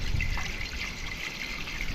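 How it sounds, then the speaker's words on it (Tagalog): Water pours steadily into a cooking pot for boiling chicken pastil, a continuous trickling stream heard up close and alone for two seconds. "Atin na pong nilalagyan ng tubig."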